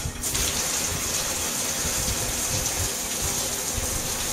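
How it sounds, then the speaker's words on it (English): Shower water running in a steady broadband gush, loud and continuous with no pauses, heard alone without voices. "Go get in the shower!"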